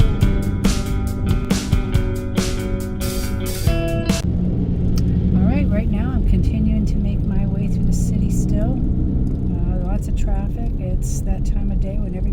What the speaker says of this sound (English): as you can see, typical Atlanta traffic